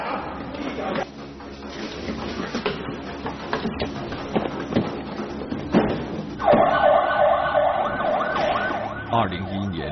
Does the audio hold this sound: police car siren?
yes